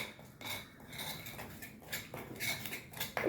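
A spoon stirs chili powder into mango pickle in a bowl, making light, irregular scraping and clinking against the dish, fairly close and with no talking.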